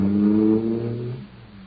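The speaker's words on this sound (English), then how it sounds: "that cosmic surface car is really roaring" A supercharged car engine roaring at close range, a loud steady drone with strong low harmonics that fades slightly over a second and a half.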